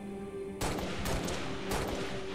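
Plasma cannon fire in the Halo Reach video game, two heavy blasts erupting over a low humming background, the second following about a second after the first, each with a noisy crackling decay.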